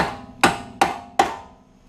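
Three sharp metallic hammer blows ring out at an even pace, each strike decaying quickly, close and clear: a tie rod being hammered out of a 2013 Audi A4 B8.5 steering rack, a nut threaded halfway on to protect the bolt.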